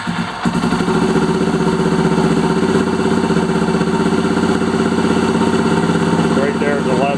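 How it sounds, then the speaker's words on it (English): Suzuki DR650 supermoto single-cylinder engine catching on choke after a brief crank and settling into a loud, steady, throbbing idle close by, running without a break to the end. "we're going to turn her on here and start it and see where we're at. Well, let's get some choke."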